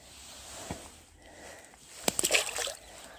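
A carp released back into the water at a fishing reservoir lands with a short, near splash and slosh, followed by a brief burst of water splatter after a quieter stretch of outdoor ambience.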